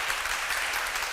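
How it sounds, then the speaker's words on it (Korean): Audience applause following a lecture on defecting from North Korea and reunification, a steady dense wash of clapping filling the brief moment without speech. "다시 한번 큰 박수 부탁드리겠습니다"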